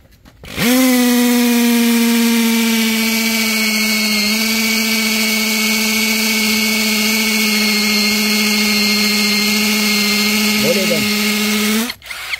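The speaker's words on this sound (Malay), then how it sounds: "Adjust kat hammer, baru kita boleh korek batu." A cheap hammer drill set to hammer mode bores into stone, running as one loud, steady whine that starts abruptly, holds for about eleven seconds with a slight dip in pitch, and then cuts off.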